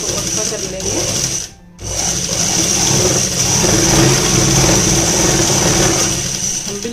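A sewing machine runs steadily and close while stitching a kurta sleeve, its even mechanical whir dropping out for one brief pause before continuing to the end.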